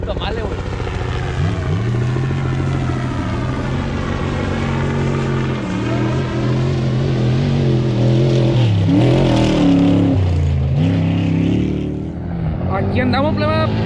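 An off-road race car roars past during the Baja 500 desert race in Baja California, engine note building and sweeping by loud and close, with people talking over it.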